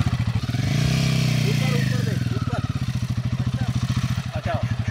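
Royal Enfield Himalayan motorcycle ridden off-road during a riding lesson, its engine close and loud with a swelling rev that settles into a fast, steady thumping pulse.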